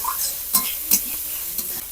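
Sliced capsicum is stirred through ginger-garlic paste and spices in a hot pan: a steady oily sizzle with a few sharp spatula scrapes against the pan, close and fairly quiet.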